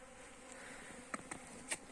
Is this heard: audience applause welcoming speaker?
no